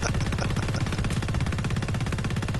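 Sustained rapid automatic gunfire in Planetside 2, dense and loud with steady overlapping shots filling the whole stretch, no speech over it.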